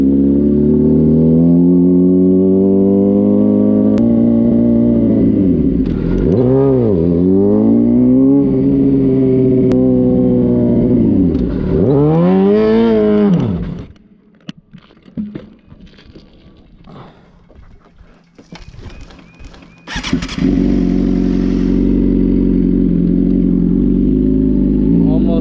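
A motorcycle being drifted in first gear in a lot revs loudly in rising and falling sweeps, drops to a quiet idle-like lull, then roars back up at close range.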